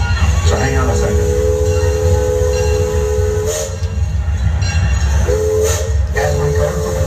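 A loud train rolls through a level crossing in Texas with hissing steam and two long whistle blasts, the second broken into short toots, a voice faintly underneath.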